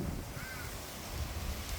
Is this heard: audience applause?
no